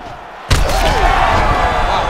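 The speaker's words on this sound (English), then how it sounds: "Wow, both of them are landing massive shots." A heavy punch lands with a sudden loud thud in a UFC 5 video game bout between Jake Matthews and Derrick Lewis, followed by a sustained roar of crowd noise.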